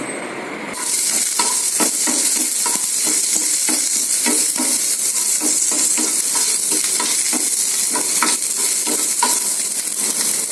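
Loud, steady sizzling of chopped onions and green chillies frying with mustard seeds in a hot pan, with occasional scraping stirs, close and continuous.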